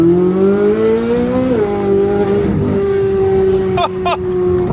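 A straight-piped Corvette C8 Z06 drones loudly and close, its engine tone rising and then dropping sharply as it downshifts, followed by a steadier hum with a couple of brief crackles near the end.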